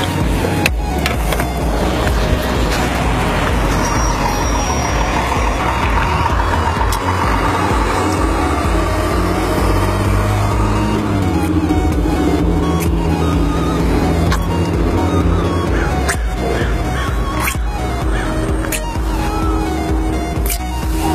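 A car drives along with a loud, steady engine and road rumble, its pitch shifting as it moves, and occasional sharp knocks and clatters sound over the continuous drone.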